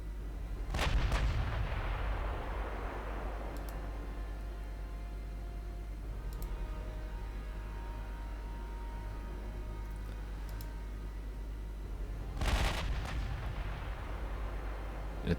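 Battleship naval guns fire in the Ultimate Admiral Dreadnoughts naval combat game, two heavy booming salvos roughly eleven seconds apart, each with a rolling decay, over a constant low rumble, with no voices.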